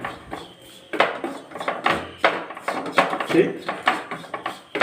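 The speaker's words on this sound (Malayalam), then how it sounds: "മല്ലിപ്പൊടി നല്ലവണ്ണം ഒന്ന് ഇളക്കി ചൂടാകണം" A spoon scrapes and knocks against a pan while coriander powder is stirred and heated on a low flame, giving irregular clattering scrapes of moderate loudness, close up, with no voices.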